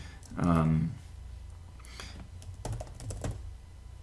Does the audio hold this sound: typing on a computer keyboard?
yes